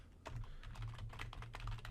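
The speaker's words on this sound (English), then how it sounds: "I'm going to type" Rapid keystrokes on a computer keyboard as a Windows Server run-box entry is typed, a steady burst of close, crisp clicks over a low hum.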